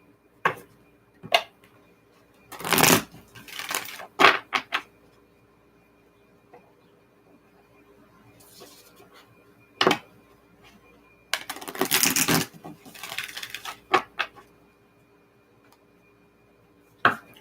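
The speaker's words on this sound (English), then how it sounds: "I'm just going to shuffle the cards a little bit before I get into doing the readings." Tarot cards are shuffled by hand at a reading table, giving close, soft riffling and rustling bursts. Sharp taps and clicks are scattered between them, with quiet pauses in between.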